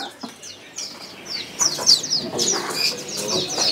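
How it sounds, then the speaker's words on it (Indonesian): A pentet, the long-tailed shrike from East Java, calls in a run of sharp, high, repeated chirps and whistles that grow louder and busier toward the end, close by with no talking. "di sini juga ada yang namanya burung pentet ya"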